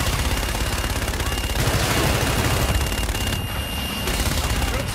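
Sustained gunfire strike in the video game Call of Duty Infinite Warfare, a dense, loud barrage of overlapping shots and booms rolling continuously throughout, with no break in the fire.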